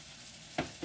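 Flour stirred into melted butter for a sausage-gravy roux, a soft, fairly quiet sizzle in the pan with a brief louder burst near the end, no voices.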